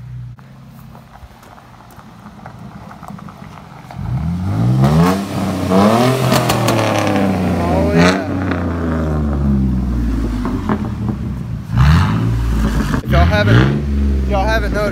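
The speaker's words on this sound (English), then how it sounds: "Free Willy just pulled up in his race truck." A race truck pulls up with a low rumble, then revs hard in several rising and falling bursts up close, loud and alone.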